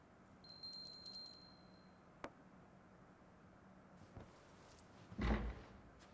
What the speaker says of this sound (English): Who would hear that tiny little bell?